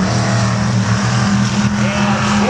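Pure stock race cars in a heat race roar through turn two, a dense sustained engine drone that stays loud and close for the whole stretch, with a commentator talking over it.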